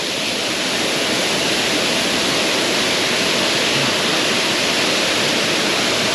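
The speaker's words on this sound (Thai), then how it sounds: "ตรงที่น้ำตกไหลลงตรงนั้นนะครับ" A jungle waterfall pours into a deep pool, giving a steady, loud, broadband rush that stays constant and unbroken throughout, with no voices.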